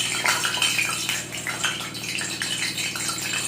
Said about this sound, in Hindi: इसके बाद हम थोड़ा सा पानी का यहाँ छिड़का मारेंगे।